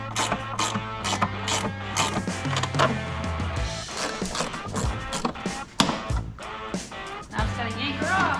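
Ratcheting and clicking mechanical work as bolts and plastic clips come off a Jeep Wrangler fender, with steady repeated clicks and knocks close by over a busy background.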